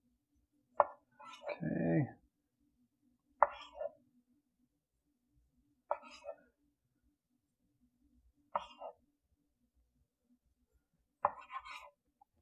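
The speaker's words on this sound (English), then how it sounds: "I'm gonna cut maybe about two inch rolls here" A sharp knife slices rolled pizza pinwheel dough into two-inch rolls: five soft, close cuts spaced evenly a few seconds apart, with one brief spoken word near the start.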